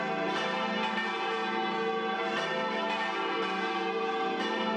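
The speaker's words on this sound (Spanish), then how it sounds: "sonaron todas las campanas de la torre del templo catedralicio." All the bells in a cathedral tower in Cantabria, Spain ring together loudly and continuously, their overlapping peals blending into a dense, sustained clangor.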